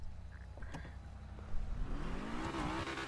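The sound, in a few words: car engine revving in GTA video game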